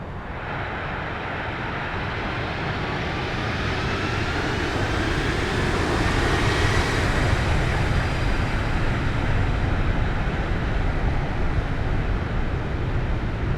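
Steady, loud jet engine roar from airliners in the X-Plane 11 flight simulator, including a 737 pushing back, swelling slightly midway and holding as a broad continuous rumble with no voices.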